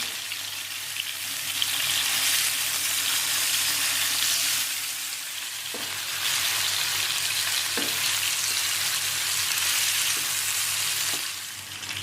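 Chicken cooking uncovered in a clay pot for Kudukkachi biriyani sizzles loudly and steadily, with a few soft knocks and stirring sounds and no talk.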